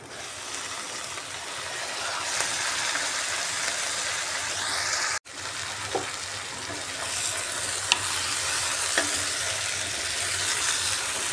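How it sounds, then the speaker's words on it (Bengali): Spiced jackfruit curry sizzles steadily in an uncovered pan while it is stirred, with a loud, close hiss of frying, occasional light spoon clinks and a brief break near the middle. "আবার ডাকাটা সরিয়ে নাড়িয়ে দিচ্ছি ভালো করে মশলাটা কষা হয়ে গেছে"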